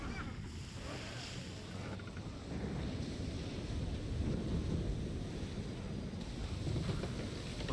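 A ship sailing into a storm in Assassin's Creed III: a steady roar of wind and crashing sea surges around the vessel, broad and continuous, swelling louder in the second half.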